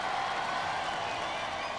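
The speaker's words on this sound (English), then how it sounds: "Let's give them a great round of applause." An audience applauding the finalist teams at a Robot Wars Extreme Warriors event, a steady wash of many hands clapping together, fairly loud and sustained throughout without pause.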